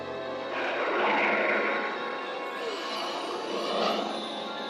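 A cartoon aircraft touches down in the animated world of Eternia with a loud, sweeping whoosh that swells, eases and swells again, with no talking.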